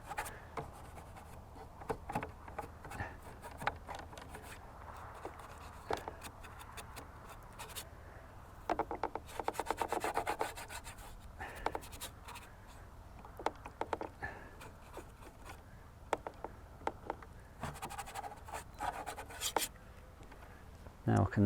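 A painter scrapes oil paint across canvas outdoors by the Helford River in bursts of dry rasping strokes, faint and close, with quiet talk in places.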